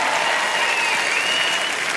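An audience in a concert hall applauds loudly and steadily, with a dense, even clapping that holds throughout.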